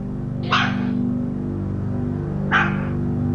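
Two short, sharp dog barks about two seconds apart stand out over a steady low hum in an indoor room.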